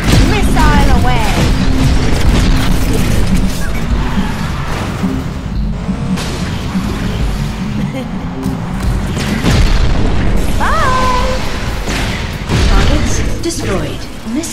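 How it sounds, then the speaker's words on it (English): A missile launch and explosion in the Cars 2 video game, playing as Holley Shiftwell: a loud booming blast over a constant roar of engines and game music, with a game voice talking over it. "Missile away!"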